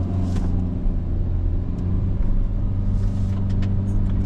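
A 2025 Hyundai Venue SEL with a 1.6-litre naturally aspirated inline-4 pulls away from a standstill, heard from inside as a steady low engine drone and road rumble with faint interior clicks, no one speaking.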